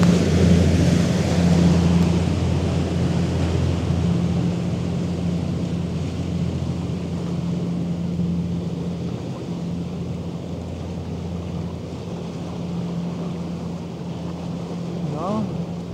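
An AIDA cruise ship sails away, heard as a steady low engine drone with a constant hum and broadband wind noise, fairly loud and unbroken throughout, with no talk.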